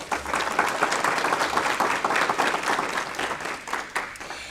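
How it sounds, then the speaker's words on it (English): Sustained audience applause fills a school board of education meeting, steady dense clapping from a crowd held at an even level for several seconds without speech over it. "Please give Ms. Palmer a round of applause."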